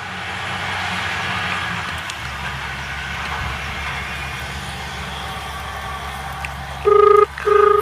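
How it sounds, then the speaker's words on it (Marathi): A mobile phone call to a farm owner is dialed, and a ringback tone sounds in two short bursts near the end over steady outdoor background noise. "फोन लागलेला आहे NR पाटलांना."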